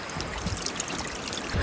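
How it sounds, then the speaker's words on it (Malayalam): A small woodland stream trickles and gurgles softly and continuously along a short hiking trail, close by and with no voices over it. "ചെറിയ അരുവി"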